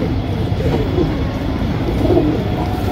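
Pigeons kept in pairs for sale coo softly and continuously, low throaty murmurs with a slightly clearer call toward the end, set against a constant noisy background.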